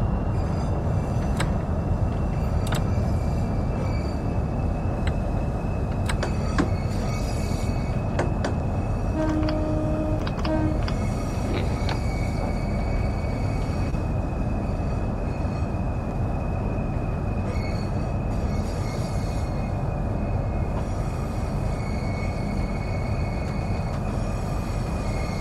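A Southeastern train in the Train Sim World 3 game runs with a constant loud mechanical drone, joined by scattered clicks, a brief tonal horn-like note near the middle, and intermittent clatter throughout.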